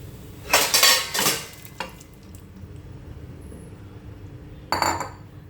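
Boiled chickpeas tipped into cooked masala in a pan, a few loud clattering bursts of metal spoon and pan contact with a faint sizzle underneath, then a final clink after a quiet pause.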